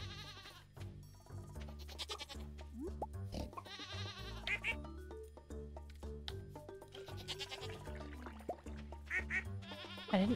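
Goats in the Stardew Valley farming video game bleat over and over on the farm, with repeated wavering cries set against a steady background of game music.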